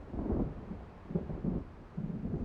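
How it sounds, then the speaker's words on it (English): Thunder from an approaching storm in the video game Alan Wake rolls through as low, muffled rumbles in several soft swells, faint and distant. "It seems there's a storm coming."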